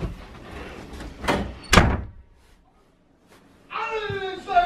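A house door slams hard once amid shouting and fast movement, followed by a short lull and then more loud talking nearby.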